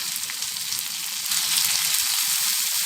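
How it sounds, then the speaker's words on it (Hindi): Chopped mint going into onions frying in ghee for mash ki khadi dal, a steady close sizzle that swells a little louder halfway through, with no talk over it. "अब इसमें पुदीना जो काट के रखे थे वो डाल देंगे"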